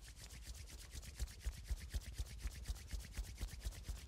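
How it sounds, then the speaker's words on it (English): Hands rubbing together briskly during a qi gong exercise, a soft rhythmic swishing of palms repeated in even strokes, close and fairly quiet. "Rub your hands together."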